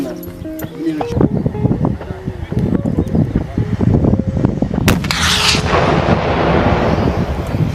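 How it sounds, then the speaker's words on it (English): Farah's rocket launcher in Overwatch fires rockets in a continuous barrage of booming blasts and rumbling explosions, loud and dense, with a sharp burst and whooshing tail toward the end. "Farah shoots rockets from her primary weapon, Rocket Launcher."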